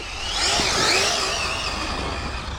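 An Arrma TLR Typhon 6s electric RC buggy at full throttle, a high, whining motor and drivetrain rising slightly then holding steady, loud and close, with no talk over it.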